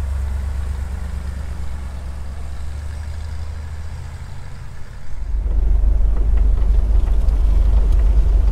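A 1962 Ford Thunderbird Sports Roadster with a three-speed Cruise-O-Matic transmission cruises in high gear, its engine a deep, steady low rumble that grows louder and heavier about halfway through, heard from close by with no voices.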